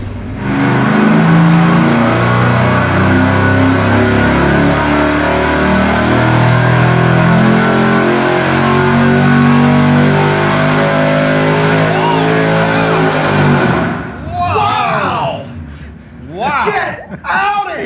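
A supercharged stock engine on a dyno, fitted with a 3.7 inch pulley and running 18 pounds of boost, revs loud and sustained, its pitch climbing as it pulls hard, then cutting off abruptly into shouting and excited voices.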